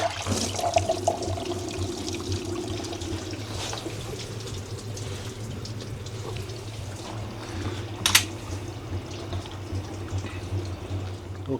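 Coolant draining from the removed thermostat of a 2008 Mercedes CL550 into a catch container, a continuous trickling pour close by, with a low hum underneath and a sharp clank near the end.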